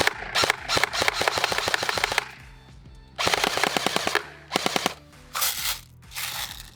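Airsoft AK fitted with a high-capacity magazine firing on semi-auto, sharp close shots in quick rhythmic bursts separated by short pauses.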